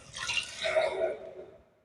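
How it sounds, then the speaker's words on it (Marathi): Two bowls of water poured into a bowl of uncooked rice while cooking, a steady splashing, trickling rush that swells midway and fades out over about two seconds. "इथे मी दोन वाटी पाणी मिक्स करणार आहे"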